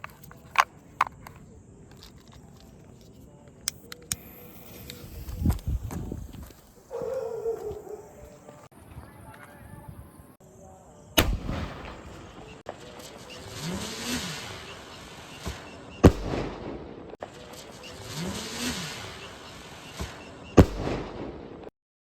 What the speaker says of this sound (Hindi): चलिए गाइस अब हम इस स्काई शॉट को चलाने वाले हैं